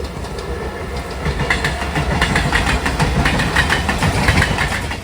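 The Diva–Sawantwadi Express train standing at a station rumbles steadily close by, a low engine drone with faint rhythmic clacking and metallic texture, growing slightly louder after the first second, with no voices.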